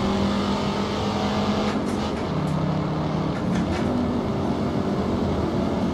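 A racing car engine in a driving simulator game drones steadily at constant speed, a sustained mid-pitched motor hum with faint brief clicks, no speech.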